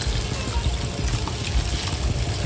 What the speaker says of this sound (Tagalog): Dadagdagan po natin ng tubig.